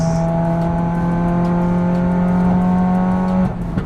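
A Subaru WRX engine pulls hard with a steady, loud drone under acceleration, then cuts off abruptly near the end as the car brakes. The sound is close and continuous throughout.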